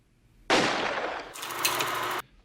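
In the film Die Hard, a gunshot is relayed through a walkie-talkie: one sharp, loud crack bursts in, then a harsh, crackly, filtered tail lasts nearly two seconds before it cuts off abruptly into quiet.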